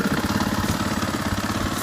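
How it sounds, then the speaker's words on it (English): A brand-new, completely stock 2015 KTM 500 EXC dirt bike with stock exhaust idles close by, a steady loud low throb with even rapid pulsing and no other sound. "On idle, stock exhaust, no mods, just completely stock bike, brand new."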